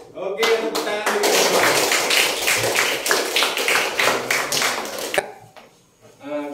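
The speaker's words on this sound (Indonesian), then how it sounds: "tepuk tangan dulu" A classroom group claps together in quick, loud bursts of hands for several seconds. The clapping stops abruptly near the end, and a voice speaks before and after it.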